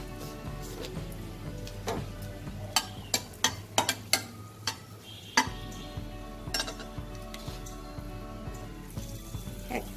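Three dried red chillies, split down the middle, frying in hot mustard oil in a pan, with a steady soft sizzle under sharp metallic clinks and taps of a utensil against the pan, clustered in the middle and recurring later.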